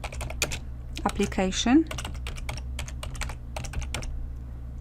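Quick keystrokes clatter on a computer keyboard while writing Excel VBA code, light rapid taps at close range, with someone talking briefly over the typing.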